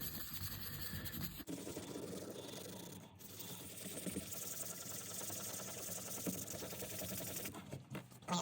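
A vintage Timex watch crystal is sanded by hand with 180 grit sandpaper, a close, quiet, continuous rasping rub with small rhythmic scratchy strokes and a couple of brief pauses.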